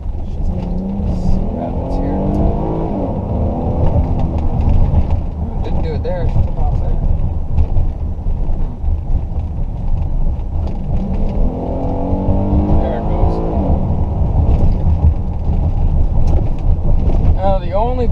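Ford Edge engine running at high RPM with a misfire, a loud rough roar with uneven pulsing and wind buffeting, rising and falling as revs change, with voices talking over it.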